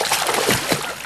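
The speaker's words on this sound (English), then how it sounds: "that didn't stop kids from splashing around" Kids splash in shallow water beneath a man-made waterfall that has been switched off, a dense wash of splatter and slosh throughout, close and fairly loud.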